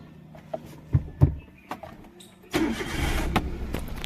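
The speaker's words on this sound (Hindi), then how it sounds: "कुछ इस तरह से कार को स्टार्ट कर लिया।" A car engine is started: a few faint clicks and knocks, then the engine catches and settles into a steady idle nearby.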